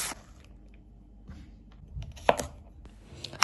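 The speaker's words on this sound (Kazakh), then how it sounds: "Сәбізімізді осылайша теркіден өткізіп алатын боламыз." A carrot is rubbed across a hand grater in a kitchen while a cabbage salad is made, giving sparse, quiet scraping strokes with small crunchy bursts near the middle and end.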